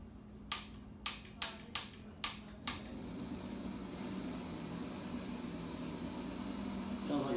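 An MSR Pocket Rocket Deluxe camping stove burns under a Snow Peak titanium pot of water, a steady broadband roar after a quick run of six sharp igniter clicks at the start.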